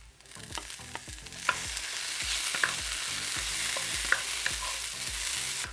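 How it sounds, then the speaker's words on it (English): Lentils being stirred into cauliflower rice frying in a pan for a vegan Jamaican-style rice and peas: a steady close sizzle with repeated rhythmic spoon scrapes throughout, no voices. "So now I'm gonna add in my peas."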